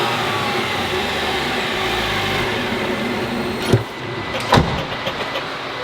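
Jeep Wrangler engine fitted with a Banks Ram Air cold air intake, a loud, steady close-up engine roar with turbo whoosh, followed by a couple of sharp clunks as the noise drops slightly.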